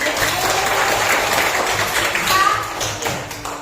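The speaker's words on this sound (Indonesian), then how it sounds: "Tepuk tangan dulu untuk kita" A class of fourth-grade students claps together at the start of an elementary school lesson, a steady close burst of applause lasting a few seconds with some voices mixed in.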